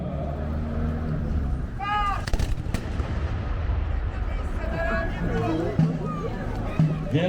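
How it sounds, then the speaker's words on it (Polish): A cannon salvo at a Nysa Fortress Days reenactment, its heavy blasts booming and rumbling out to a distance amid a murmuring crowd, with voices calling out over the noise. "pierwsza salwa już za nami"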